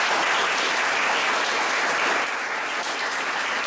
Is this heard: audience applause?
yes